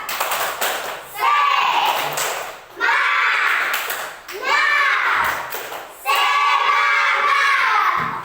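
A primary school class repeating a rhythmic spirit clap, sharp sets of group clapping in a patterned beat alternating with loud unison chanting by the children, close in a classroom.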